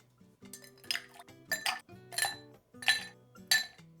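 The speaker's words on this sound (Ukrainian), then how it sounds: "Тепер додаємо до нашого хайболу лід" Ice cubes clink into a highball glass in a series of about six bright, sharp clatters spaced roughly half a second apart, close up and otherwise quiet.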